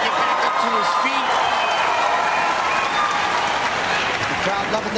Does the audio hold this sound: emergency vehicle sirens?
no